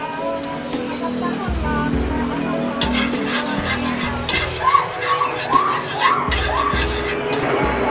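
A hotdog sizzles loudly in a frying pan with butter, a dense, continuous crackling hiss that stays close and steady throughout, with a few brief stirring scrapes.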